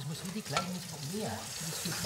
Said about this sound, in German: Die Gambas liegen in der Pfanne